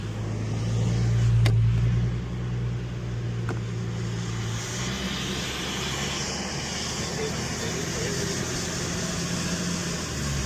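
Infiniti G37x with a swapped VR30 engine driving, a steady loud engine and road drone inside the car, with a rise in revs and then a gear shift that settles into a lower, even hum.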